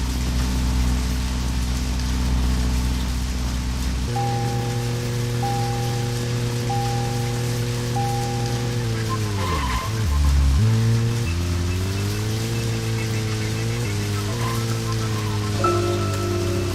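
Steady rain falling in the woods in the video game Deadly Premonition, a constant wash of hiss mixed with a low droning engine-like tone that shifts in pitch partway through.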